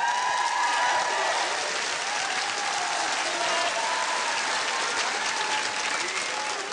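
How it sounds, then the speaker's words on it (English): Steady, loud applause from a large TV dating show studio audience, sustained throughout with a dense wash of clapping and a few faint cheers. "give him a round of applause"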